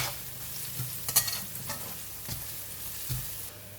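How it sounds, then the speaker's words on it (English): Garlic frying in oil in a pan until brown and crispy, a soft continuous sizzle with occasional stirring clatters and light pops close by. "We're going to fry the garlic until brown and crispy."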